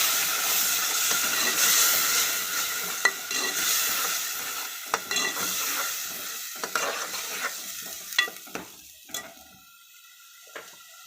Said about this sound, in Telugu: మిక్సీ పెట్టాం కదా ఫ్రెండ్స్, టమాటా వేసేద్దాం మసాలాలో.